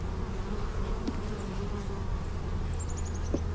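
Continuous close buzzing of honey bees at an open hive being inspected, a steady low hum with occasional rising whines as single bees fly past, no voices.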